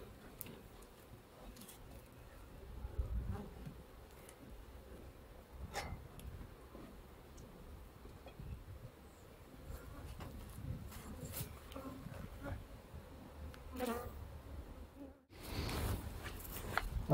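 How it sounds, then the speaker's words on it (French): A small honey bee swarm newly settled into a hive gives off a faint, low buzzing hum. Scattered soft ticks and taps sound up close, and a brief louder rustle comes near the end. "celle-ci c'est un essaim que j'ai enruché suite à un essaimage d'une de mes divisions"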